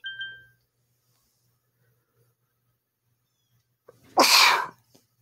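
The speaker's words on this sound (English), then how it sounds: "And I gotta sneeze real bad." After a short beep and a long pause, a single loud sneeze bursts out close by, then quiet.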